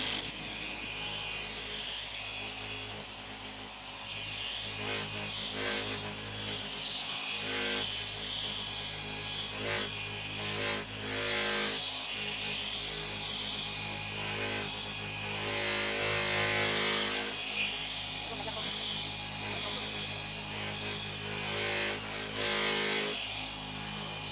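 A surface is sanded and then polished, a continuous close rubbing, whirring grind that holds steady and loud throughout, with slight swells in intensity and no voices.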